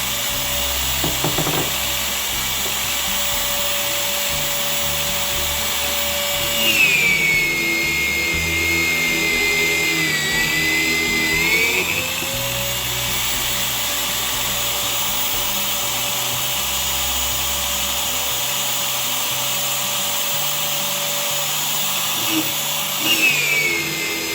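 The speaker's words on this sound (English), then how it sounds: "Drill press there now." A drill press whines steadily close by, its pitch dipping for several seconds as the tungsten cutter bites and bores, then easing back.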